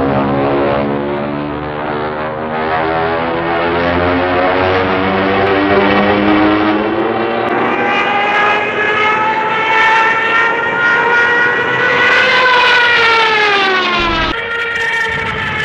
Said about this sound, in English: Back then, the Germans put sirens on the Stuka